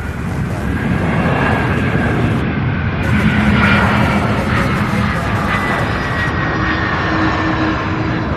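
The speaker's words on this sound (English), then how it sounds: "What a beautiful landing." A jet aircraft landing at Louisville International Airport, a loud sustained engine roar with broadband rushing noise and faint tonal whine, steady and fairly close throughout.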